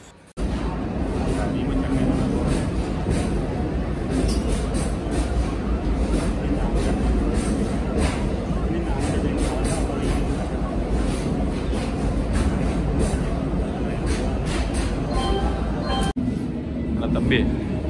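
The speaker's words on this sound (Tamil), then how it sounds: "ஒரு வழியாக ட்ரெயின் வந்துச்சு." A passenger train pulls into a railway junction, with a steady loud rumble of rolling wagons and rhythmic wheel clatter lasting throughout, occasional faint squeals, and people talking on the platform underneath.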